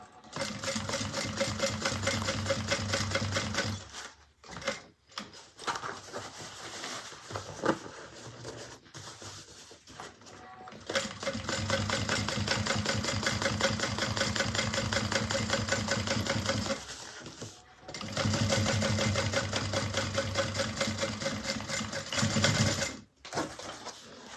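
A sewing machine runs through thick waterproof canvas on a bag panel, in long bursts of fast, steady stitching separated by short pauses and stops, close up with no talking.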